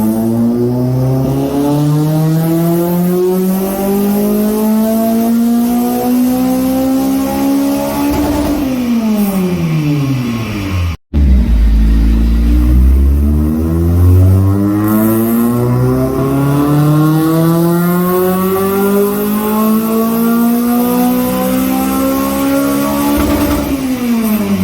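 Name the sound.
car engine revving during dyno pull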